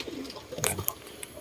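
Racing pigeons coo softly in a loft, a few low murmuring calls with brief chirps scattered through a short stretch.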